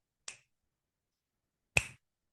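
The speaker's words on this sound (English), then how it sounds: "snapping my fingers" Two crisp finger snaps, close and clear, about a second and a half apart with silence around them.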